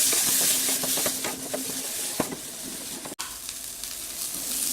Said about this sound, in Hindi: इसमें मैं डालूंगी थोड़ा सा बटर। इसमें डाल दूंगी मक्के को और इसे हम 1 मिनट के लिए अच्छे से भून लेंगे।